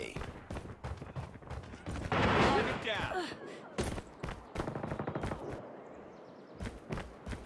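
Rapid bursts of automatic gunfire from Call of Duty Mobile, dense repeated shots with a heavy burst near the middle, mixed with in-game effects and footsteps throughout.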